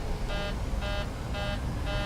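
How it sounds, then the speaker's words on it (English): Repeating electronic cockpit warning alarm in a flight simulator during takeoff, four evenly spaced tonal beeps sounding over a steady engine and background rumble. "Don't worry about that alarm,"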